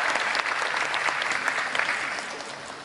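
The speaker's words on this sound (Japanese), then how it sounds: "温かい拍手をお送りいただきたいと思います。" Warm applause from an audience at the Japan Race Queen Award 2022 ceremony at Tokyo Auto Salon, a steady dense clapping that stays fairly even from start to finish.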